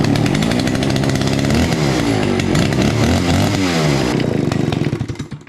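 A free, secondhand Stihl chainsaw roars at full running speed, its loud, buzzing two-stroke engine revving steadily up close before cutting off and fading in the final half second.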